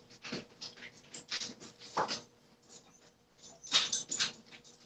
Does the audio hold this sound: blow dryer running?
no